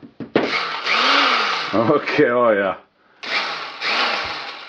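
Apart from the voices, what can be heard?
vintage 1950s drill drilling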